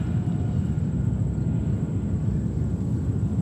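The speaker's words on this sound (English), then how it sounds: "Turkish 777 is about to line up on runway 13 right" A Turkish Airlines Boeing 777 airliner idles on a JFK runway, giving a steady, moderately distant low engine roar with a faint high whine, unbroken for the whole stretch and with no talk.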